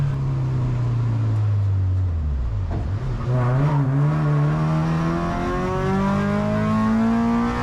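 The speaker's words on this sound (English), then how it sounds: "what you think of the sound of Rhonda with her full 3-inch exhaust and elusive headers at full noise" A budget enduro race car with a full 3-inch exhaust and headers roars continuously at full revs, its loud engine note dipping briefly then climbing steadily as it accelerates, close and alone without talk.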